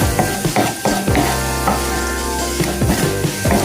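A wooden spoon scraping and stirring scrambled egg stuck to the bottom of a pot, giving repeated rough scrapes over a steady sizzle, close and moderately loud throughout.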